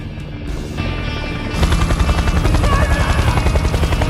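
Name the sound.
helicopter in an action film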